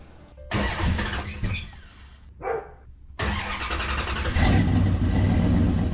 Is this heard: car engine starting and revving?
yes